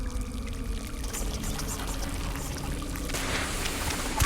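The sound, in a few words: water leaking from a pipe in the sewers, from video game Daylight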